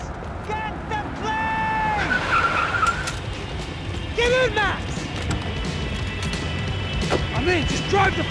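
A car races and skids through a Max Payne 3 game scene, tires squealing in long wavering whines over a steady engine roar, with shouted voices and clatter mixed in.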